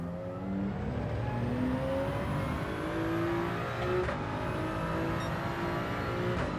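A Toyota Supra race car engine in Gran Turismo 7 drones at steady speed, with gear changes shifting the pitch and faint whirring over a low, continuous rumble.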